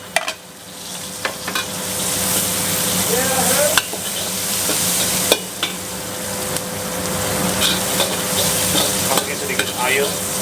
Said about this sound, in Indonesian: Masukin sedikit minyak aja. Masukin semua bumbu yang ada di sini, bombay, wortel, sama daun bawang.